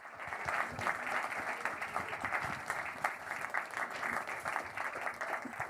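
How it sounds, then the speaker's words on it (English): An audience at a wearables challenge pitch-off applauds the 10 presenters, steady dense clapping filling the room without a break. "Round of applause for the 10 presenters"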